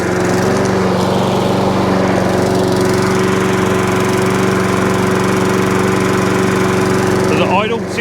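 A Hayter Harrier 41 auto drive lawn mower engine runs steadily and loudly up close, a constant droning hum with a faint chirp near the end, under someone talking.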